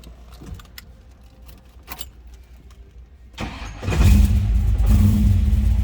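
A 1969 Chevrolet Camaro: faint rattles and key jingles first, then the V8 cranks and fires at about three and a half seconds and settles into a loud, steady, rumbling idle.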